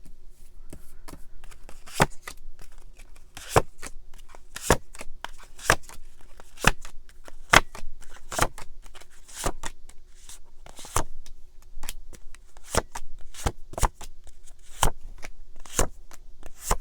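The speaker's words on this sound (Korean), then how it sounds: "그러면 조금 더 자세히 한번 카드 뽑아볼게요." Tarot cards are shuffled and drawn, giving sharp, crisp riffling snaps at regular intervals of roughly a second, close and distinct over a quiet background with no talking.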